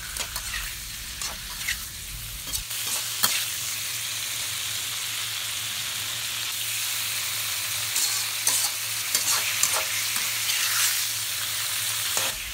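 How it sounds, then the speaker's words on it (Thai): Chicken blood is stir-fried in a hot pan in a home kitchen. It gives a continuous loud sizzle with the scraping clatter of a spatula stirring throughout, and no talking. "ตรงนี้นะคะเราจะผัดพอที่เลือดนะคะจะเปลี่ยนสีไปอีก1ระดับนะคะ"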